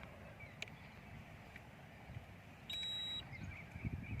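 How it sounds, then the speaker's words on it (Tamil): A single steady electronic beep lasting about half a second, from a 3DLocators LPS-1200 water detector switching on, rises over a low background rumble, with faint clicks around it. "இதில் நம்மளுக்கு வந்து பீப் இண்டிகேஷன்ஸ் கிடைக்கும்."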